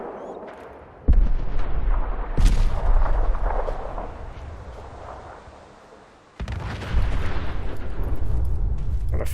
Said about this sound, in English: Kind of fighting and shooting going on over here.